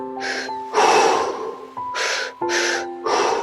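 Deep, audible breaths drawn in and pushed out during a guided breathwork session, several long airy exhales in an uneven rhythm, close and fairly loud over a steady soft musical drone.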